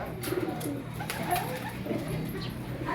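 Racing pigeon arriving at its loft during a first-lap derby in La Union, soft cooing and wing sounds nearby over a low outdoor background, with a voice briefly in the mix.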